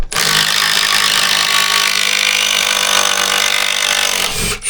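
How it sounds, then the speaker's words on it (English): A Metabo impact driver sinks a large lag bolt with a steady, loud, continuous hammering buzz that holds for about four seconds before cutting out, with a brief blip at the end. "We're running one of these larger lags."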